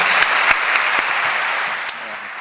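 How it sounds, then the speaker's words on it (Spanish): Forum audience at the Andorra Economic Forum 2024 applauding a speaker after his talk, a dense sustained wash of clapping with a few sharper claps, fairly loud and steady, tapering slightly at the end. "Un aplauso enorme."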